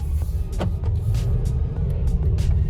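A 2.5-litre five-cylinder car engine runs nearby with a steady, deep idling rumble, broken by a few brief higher-pitched clicks and whooshes.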